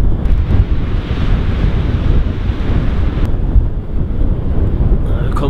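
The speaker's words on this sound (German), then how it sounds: "Die Ostsee hat ordentlich Wellen drauf." Baltic Sea waves wash and roll continuously under strong, buffeting wind gusting across the microphone, loud and close on a breezy shoreline.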